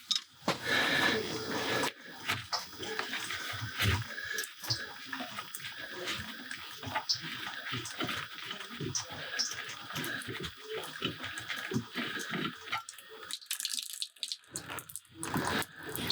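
Water drains and gurgles from copper plumbing during an electric water heater replacement, a steady trickle with drips and splashes and occasional faint speech nearby.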